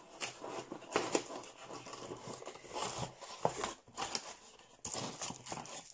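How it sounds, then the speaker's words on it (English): Dull scissors snip and crinkle through packaging in uneven bursts, a close run of crisp cutting and rustling with no voices. "That scissors isn't the sharpest."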